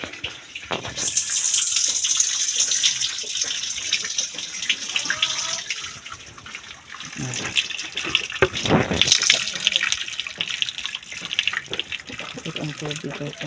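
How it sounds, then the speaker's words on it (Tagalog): Water gushes steadily from a tap for several seconds, a continuous close splashing with brief shifts in flow, while people talk over it. "Pasok ang tubig."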